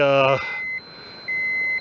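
A Geiger counter's alarm sounds while prospecting for fluorescent minerals in Boulder County, Colorado: a loud buzzy tone cuts off, then a thin high steady beep returns, clear and close.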